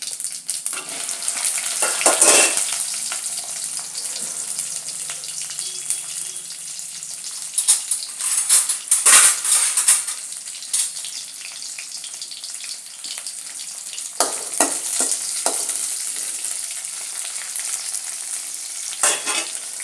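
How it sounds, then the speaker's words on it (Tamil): Okra sizzles and crackles in a hot pan, with bursts of louder frying as it is stirred, and no voices. "வெண்டைக்காய் நல்லா ஃப்ரை ஆகணும்."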